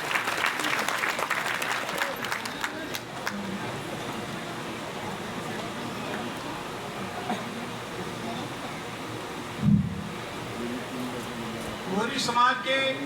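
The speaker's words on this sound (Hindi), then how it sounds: "एक बार जोरदार तालियां" Applause from the audience at a Kori community convention, steady and crowd-wide throughout, with background voices mixed in and a brief thump near the end.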